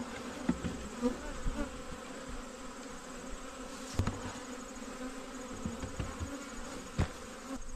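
Honeybees swarming around a newly installed hive outdoors, a steady dense buzz with individual bees passing close now and then, no talking.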